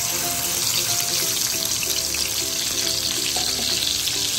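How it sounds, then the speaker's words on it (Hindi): Ginger garlic paste hitting hot oil in a pan for a black chickpea curry: a loud, continuous crackling sizzle with a wet, bubbling edge, close up and uninterrupted by speech. "अब इसमें जाएगा अदरक लहसुन का पेस्ट,"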